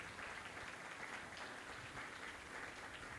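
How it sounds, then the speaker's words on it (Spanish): Steady, faint crowd applause from an audience at a community gathering, an even wash of clapping with no pauses throughout. "Que se sienta ese aplauso"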